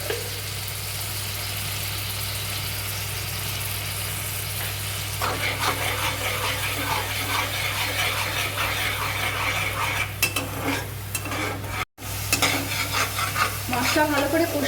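Masala of Kashmiri chilli powder and green chillies frying in oil for a cucumber curry, a continuous close sizzle with frequent scraping stirs that grow busier partway through, brief cut near the end, no talk.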